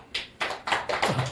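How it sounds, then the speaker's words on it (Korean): At a church gathering, a small group claps in a few distinct, evenly spaced bursts that sound close and fairly soft. "우리 박수 한번 쳐주세요"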